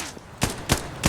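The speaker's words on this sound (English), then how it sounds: "That's a frag." Frag grenade explosions in a 90s-style retro military shooter video game: three sharp, loud blasts spaced roughly a third of a second apart over a low background rumble.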